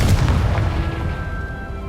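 The Confringo blasting spell in Hogwarts Legacy goes off as a loud, deep booming explosion that fades into a ringing rumble.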